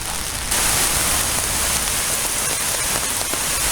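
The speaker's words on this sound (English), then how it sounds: "hey, it's raining, let's go out." Steady storm rain pours down outdoors, a dense, even hiss of drops on surfaces that swells after a brief quieter start and continues without pause.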